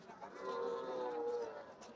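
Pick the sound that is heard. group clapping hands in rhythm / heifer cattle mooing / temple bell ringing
heifer cattle mooing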